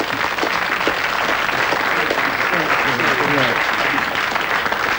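A game show studio audience applauds a departing contestant with a continuous, loud patter of clapping, while a voice talks briefly beneath it partway through.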